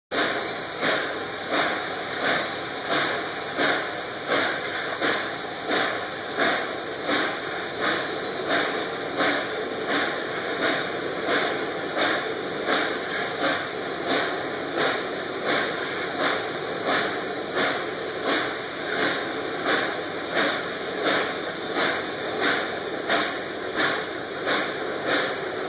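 The Reading & Northern 2102 steam locomotive slips on the rails, its exhaust blasting in a rapid, even chuffing rhythm over a continuous loud roar of hissing steam, sustained and close from start to finish.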